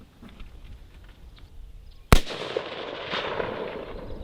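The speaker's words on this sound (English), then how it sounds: "So we're going to be shooting this prone," An AR rifle fires a single sharp, loud shot outdoors from a prone, unsupported position, with a long rumbling echo trailing off over steady background noise.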